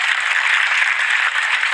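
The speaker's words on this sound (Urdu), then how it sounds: "ان کے لیے سب تالیاں بجائیں" Audience applause at a religious lecture, a dense, even wash of many hands clapping, steady and loud throughout the short moment.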